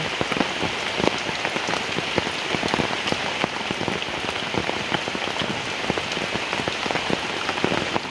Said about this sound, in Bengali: ঢাইলা পড়ছে আবার বৃষ্টি